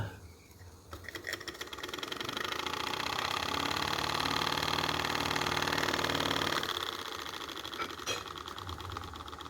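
A Mercer desktop live steam traction engine runs with rapid, even valve chuffs on both the forward and backward strokes. The fast, steady mechanical pulsing swells louder for several seconds and then eases back slightly, with no voices.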